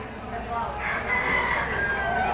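Rooster crowing amid a poultry market stall of stags and gamecocks in Padre Garcia, Batangas, a drawn-out mid-distance crow rising over the crowd murmur and other fowl.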